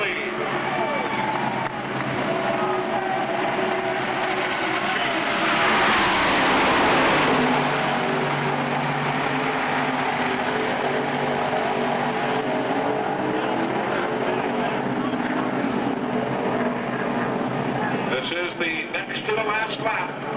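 Stock cars racing at Daytona roar past in a close, heated battle for the lead, a loud sustained engine drone with a sweeping pass near the middle, under continuous excited commentary.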